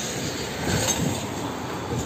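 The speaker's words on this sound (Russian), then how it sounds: "Вон трамвайчик едет" A city tram rolls along the street outside, a steady broadband rumble with a faint high squeal, loud and fairly close throughout.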